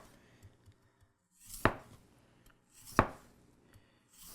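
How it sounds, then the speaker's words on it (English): A custom chef's knife cuts thin potato slices on a board, two crisp separate chops about a second and a half apart in an otherwise quiet room. "Nice, thin slices of potato"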